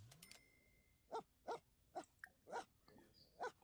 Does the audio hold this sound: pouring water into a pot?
no